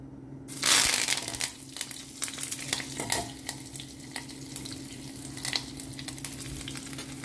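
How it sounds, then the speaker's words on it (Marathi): Slit green chillies and curry leaves fry in a tempering of hot oil with mustard and cumin seeds, opening with a loud crackling burst that settles into a steady close sizzle, lightly stirred, with no speech. "सो हें पळय चिली न्ही मातशें हांगा फ्राय जाल्लें आसा."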